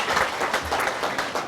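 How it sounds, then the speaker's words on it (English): Applause from a crowd at an outdoor Surfing Walk of Fame induction ceremony on Main Street in Huntington Beach, a steady dense clapping that holds loud and continuous without a break. "Come on, give me a big clap."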